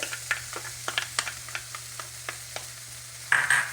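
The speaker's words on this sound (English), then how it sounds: "add the ginger and garlic. All right, so now I think this is sauteed pretty good." Ginger and garlic sauté in a hot pan for a fruit and vegetable stew, giving a steady sizzle over a low hum. A spatula scrapes and taps the pan in irregular strokes, and the sizzle swells louder near the end.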